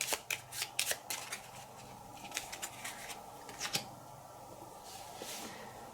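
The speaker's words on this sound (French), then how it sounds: "on remélange dans le paquet tous les équipements de niveau 3." Cards from the Parks board game are shuffled by hand in quick, soft riffling flurries at close range, quiet and irregular, with no talk.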